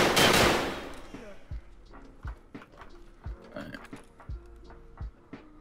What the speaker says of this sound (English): It's an RPK.